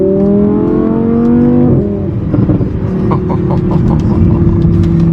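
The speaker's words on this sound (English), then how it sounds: "Let's hear this glorious V10." A Ducati Diavel 1260 V-twin engine revs hard and loud in a steady roar, its pitch sliding down before rough bursts of throttle blips, with no voices.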